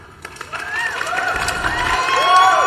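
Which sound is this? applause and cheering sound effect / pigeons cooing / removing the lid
applause and cheering sound effect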